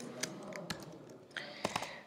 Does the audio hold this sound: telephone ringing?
no